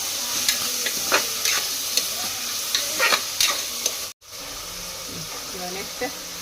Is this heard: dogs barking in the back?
no